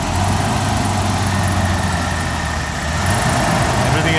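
A BMW V12 idles after a cold crank, a steady near low hum with a slightly uneven, lumpy pulse, loud and continuous with no talking.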